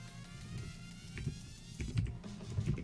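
Soft, quick keystrokes on a computer keyboard as a console command is typed in Counter-Strike: Global Offensive, a fairly faint irregular patter of clicks over low background hum.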